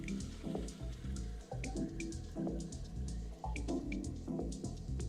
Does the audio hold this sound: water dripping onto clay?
yes